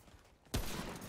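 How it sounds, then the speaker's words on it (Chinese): A sudden loud burst of gunfire erupts in a shooter video game after a quiet moment and continues as a dense, crackling volley to the end. "听到后面有枪声觉得很可怕"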